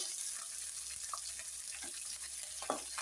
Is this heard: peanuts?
yes